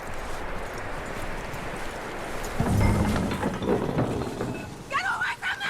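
Horse hooves clip-clopping in the Western video game Red Dead Redemption, steady mid-distance footfalls under game ambience, with characters talking over the latter part.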